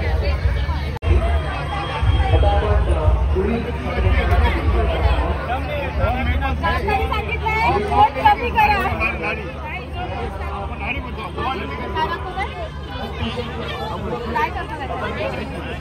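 Dense crowd chatter fills a busy outdoor festival ground at the 2025 Titwala Mahotsav, a continuous babble of many voices with nearby talk rising above it throughout.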